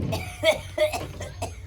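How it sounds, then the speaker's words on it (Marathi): A person coughs several times in quick succession, sharp close bursts a few tenths of a second apart, with faint background noise. "खोकला"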